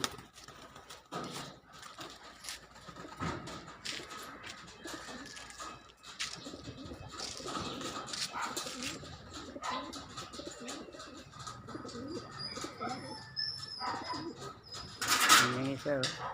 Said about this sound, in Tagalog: Paronda tayo mga kalapatids.